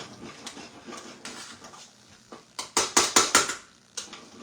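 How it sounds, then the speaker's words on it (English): A spoon stirs a pot of grits on the stove, giving soft scraping at first and then a quick run of louder metallic clinks and knocks against the pot near the end. "Let me stir my grits over here"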